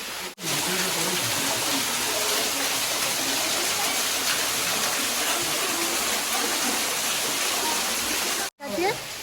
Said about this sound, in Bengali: বিখ্যাত জায়গা যেখানে একটা ফুটো দিয়ে জল পড়ছে